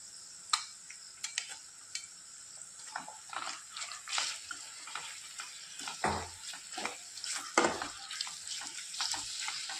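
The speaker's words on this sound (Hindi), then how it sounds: "आलं लसणाची पेस्ट छान फ्राय झाली आहे, आता मी चिकन घालते" Chicken is frying in ginger-garlic paste for chicken bhuna masala, a continuous close sizzle broken by repeated scraping and stirring clatters, with no one talking.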